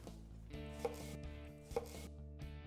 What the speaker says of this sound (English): Now we'll mince the celery.